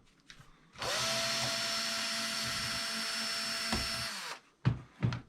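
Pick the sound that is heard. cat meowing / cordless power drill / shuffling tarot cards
cordless power drill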